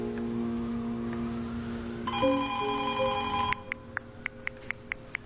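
Telephone ringing with no one answering: a sustained electronic ring tone gives way to a brighter trilling burst, then a string of short evenly spaced beeps, close and clear with no talk.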